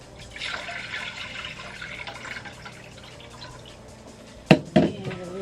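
Water pours into a large jar with a trickling, filling sound, followed by a couple of clinks of glass near the end.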